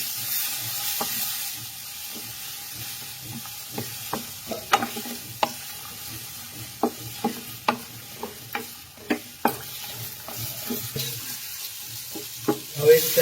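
Ginger-chili paste sizzles in hot oil for sambar with bottle gourd and drumsticks, a steady hiss broken by a series of sharp spatula scrapes and taps against the pot.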